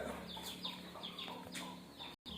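Brooding hens in a farmyard nest give soft, steady clucks and short calls, faint and close, with no voices over them.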